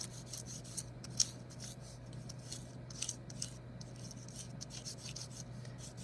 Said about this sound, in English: you can move the leaves to a different spot under the paper again and rub it some more